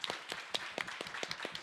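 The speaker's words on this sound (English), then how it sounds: "I was going to ask for a round of applause for these folks, but you did it already" An audience claps in a steady patter of many hands, moderately distant and fairly soft, with no talking over it.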